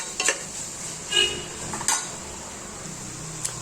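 A spoon stirs ground masala paste into mutton intestine gravy in a pan, giving a few soft scraping strokes spaced apart over a low, steady background hiss.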